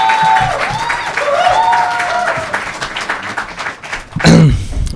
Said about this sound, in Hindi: एक बार जोरदार तालियों से स्वागत किया अशफाक भाई का।